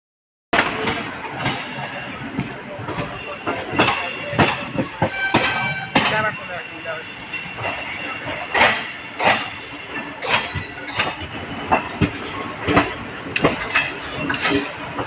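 Moving passenger train bound for Bhubaneswar, steady rumble with repeated clickety-clack of wheels over rail joints, heard from inside a carriage with some voices in the background.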